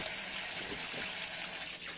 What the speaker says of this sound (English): We wash with fresh water.